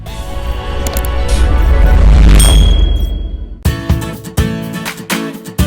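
A single bright bell-style notification ding rings out over loud, busy background music, holding briefly before the music continues with sharp hits.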